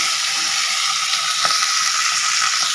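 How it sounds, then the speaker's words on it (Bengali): Marinated pomfret fish fry in hot oil in a pan, giving a loud, continuous sizzle with faint crackles running through it from start to finish. "ম্যারিনেট করা মাছগুলো একে একে আমরা ভাজার জন্য ছেড়ে দেব"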